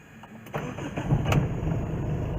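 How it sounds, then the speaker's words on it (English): A Tata Indigo CS car engine cranks briefly and catches, settling into a steady low idle rumble close by, with a couple of sharp clicks near the start. "Let's start the vehicle right now,"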